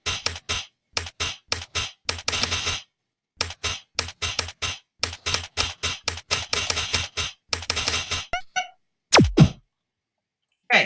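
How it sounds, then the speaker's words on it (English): Someone types on a computer keyboard during a typing lesson, producing crisp, close key clicks in uneven bursts separated by short pauses, with a few louder thumps near the end. "I'm going to hit F, spacebar,"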